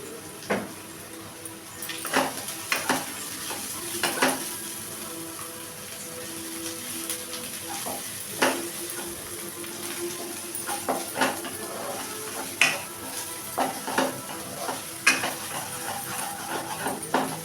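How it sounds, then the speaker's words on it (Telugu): Ginger garlic paste with a little turmeric fries in a hot pan, a faint sizzle under repeated sharp clinks and scrapes of a spoon stirring against the metal. "అల్లం వెల్లుల్లి పేస్ట్ పచ్చివాసన పోయేలాగా వేయించుకుని"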